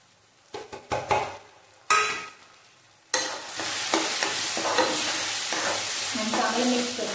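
Agri masala, coriander powder and salt stirred together in a hot pan, with a few sharp scraping strokes, then a steady close sizzle of frying under continuous stirring and no talk.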